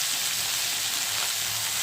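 Bitter gourd sizzling steadily in hot oil in a pan, a continuous close crackle and hiss with no voices.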